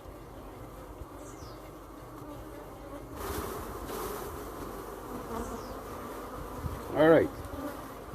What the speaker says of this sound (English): I will shake these bees and come back for the next frame.